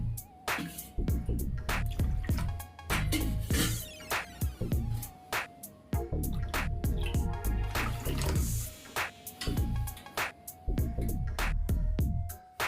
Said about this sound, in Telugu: మిగతా 7 కప్పుల వాటర్ వేసుకున్నాము